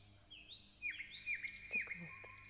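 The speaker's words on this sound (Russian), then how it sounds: "Слышишь, как поет соловей?" Quiet, clear nightingale song in a May forest: a series of high whistled chirps and trills with short pauses, close by and alone.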